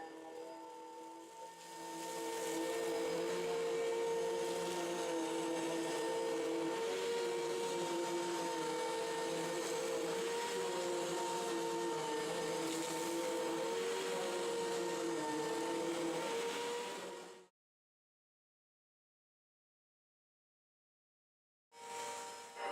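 A Hoover WindTunnel T Series Rewind upright vacuum cleaner runs steadily at close range with a loud, even motor whine for about fifteen seconds, then cuts off into silence before briefly starting up again.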